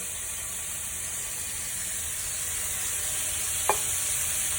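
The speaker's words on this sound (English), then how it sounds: "Now, go in with your fresh tomatoes. And then at the same time, we're going to go in with the tomato puree." Fresh tomatoes and tomato puree sizzle in a hot pan during the making of Greek stuffed vegetables, a steady close hiss with one brief sharp clink near the end.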